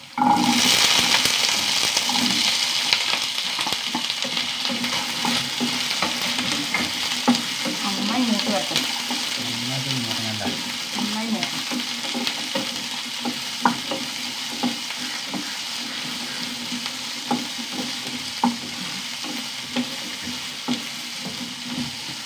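Small onions, shallots, fry hard in a hot pan. A loud, steady sizzle lasts the whole stretch, with occasional stirring scrapes and crackles mixed into the hiss and no talking.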